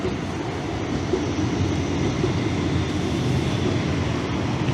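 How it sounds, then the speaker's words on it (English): A tram rolls past nearby with a steady, loud rumble that holds evenly throughout, no voices over it. "got a nice tram coming past there for you"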